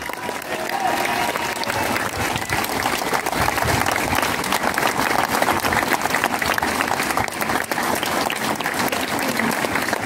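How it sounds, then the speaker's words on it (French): Sustained, dense crowd applause for police and firefighters at a July 14 outdoor ceremony in Chevigny-Saint-Sauveur, loud and steady throughout, with voices mixed into the clapping. "On peut les applaudir."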